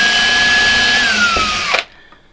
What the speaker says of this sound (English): Drill the pilot hole